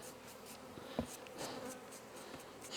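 Honey bees swarm and buzz around an opened, usually aggressive hive during a summer honey harvest, a steady close insect drone with a single brief knock partway through.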